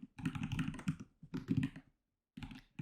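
Rapid keystrokes on a computer keyboard while writing C++ code for an SDL Pong project, arriving in three close, busy bursts separated by short pauses.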